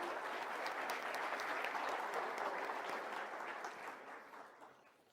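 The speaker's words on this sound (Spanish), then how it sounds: "Yo le ruego un aplauso para un panel tan selecto como el que tenemos hoy." Audience applause for a panel at a legal and corporate governance forum, a dense wash of clapping that holds steady and then gradually fades out toward the end.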